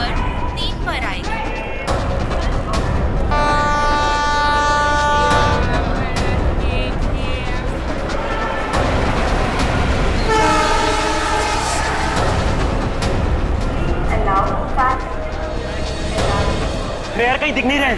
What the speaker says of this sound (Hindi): मुंबई से दिल्ली जाने वाली पश्चिम एक्सप्रेस प्लेटफॉर्म नंबर 3 पर आएगी